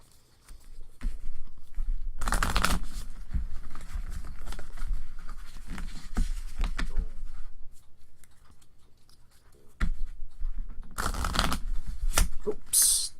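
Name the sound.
shuffling sleeved trading cards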